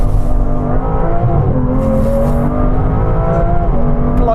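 An Aston Martin V12 Vanquish accelerating hard, its engine a loud, sustained roar heard close up with steady harmonic tones that rise gradually in pitch, and no talk over it.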